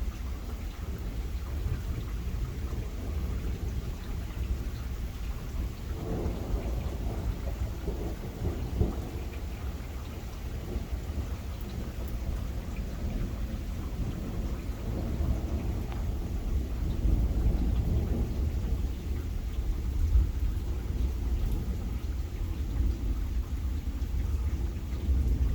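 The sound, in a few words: thunderstorm with heavy rain at night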